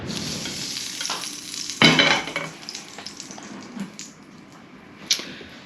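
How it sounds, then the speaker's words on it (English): Fish pan-frying at a campsite on K'gari (Fraser Island): a continuous, close sizzle broken by utensil scrapes, one loud clatter of cookware, and a few lighter taps. "Just pan frying the fish, very simple tonight."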